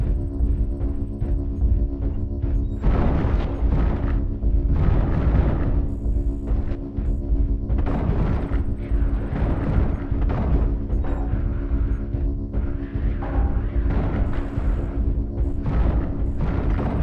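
An artillery strike in a video game battle lands as a series of heavy, rolling explosions and booms, repeated irregularly over a steady droning hum.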